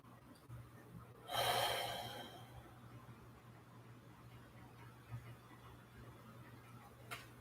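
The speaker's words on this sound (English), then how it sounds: "And breathe." A long, audible breath drawn in and let out during a rolled-up side stretch in a live yoga class, one soft broad exhale near the start, then quiet room tone with faint small rustles.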